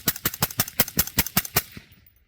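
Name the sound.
suppressed gunfire from PWS MK116 Mod 2-M rifle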